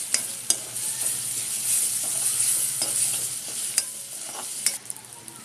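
Dudhi bhaji (bottle gourd) sautés with ginger garlic paste and coriander, a constant bright sizzle under scattered clicks and scrapes of a stirring spoon against the pan, close and steady, no voices.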